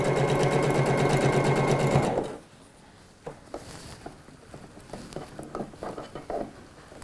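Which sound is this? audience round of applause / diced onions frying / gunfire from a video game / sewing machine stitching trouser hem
sewing machine stitching trouser hem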